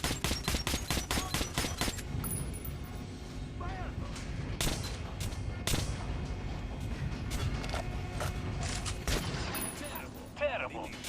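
Gunfire hits an armored dummy in the video game Metro: Last Light, starting with a rapid burst of automatic shots and then thinning to scattered single shots, with a voice talking over the firing.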